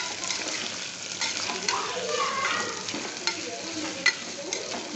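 Tomato rice is stirred in a pan on the stove, with a steady scraping and sizzling sound and occasional light clinks of the spoon against the metal.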